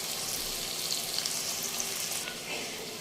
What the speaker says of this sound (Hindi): तो ये थोड़ा सा प्याज हमारा फ्राई हो गया